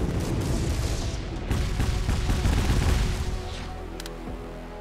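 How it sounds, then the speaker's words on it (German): Rapid volleys of explosions and gunfire from a bombardment in a nuclear war strategy game, a dense, loud barrage of booms and blasts that eases off toward the end. "Ich lasse es Bombenhageln."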